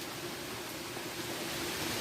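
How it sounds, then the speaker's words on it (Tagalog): Heavy typhoon rain in Laguna, Philippines, pours down in a dense, constant roaring hiss with no breaks, with no voices. "Malakas ang ulan ngayon dito, may bagyo kasi guys sa Laguna."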